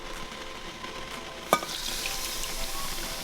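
Chilies cooking off in shimmering hot oil with the heat just turned off, a steady close sizzle and crackle with one sharp clink of a utensil partway through.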